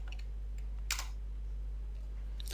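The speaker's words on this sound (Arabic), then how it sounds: "واكتب هنا في السيرش بتاع جوجل" Quick bursts of typing on a computer keyboard while entering a Google search, a short cluster of key clicks near the middle and another near the end over a steady low hum.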